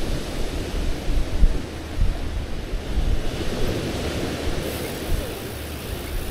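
Loud ocean waves at the Scarborough seaside, a broad steady rush of surf mixed with wind buffeting on the microphone, close and continuous with no speech.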